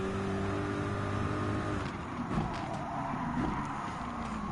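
A race car engine in Gran Turismo 7 drones steadily on lap two of a weekly challenge at the Eiger course, holding a high sustained whine with slight shifts in pitch and no voices.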